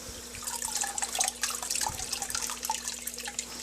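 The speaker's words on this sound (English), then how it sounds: "I then dunk that in the dirty water" Filter sponge dunked and swished in dirty aquarium tank water, giving a steady run of splashing, trickling water with small irregular splashes throughout, close and moderately loud, no voices.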